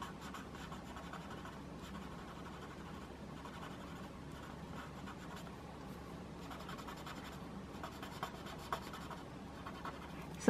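Pencil drawing on paper, a quiet, continuous scratchy scribbling made of short repeated strokes, soft and close, with no talk.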